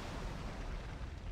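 A cannon volley fires in the video game Sid Meier's Pirates, a dense, continuous rumbling roar of booms that fills the whole moment with low-end noise.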